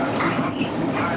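Train slowing abruptly near Paddock Wood, Kent, a steady loud broadband rumble of rail wagons and wheels with a faint high squeal partway through, continuous across the whole moment.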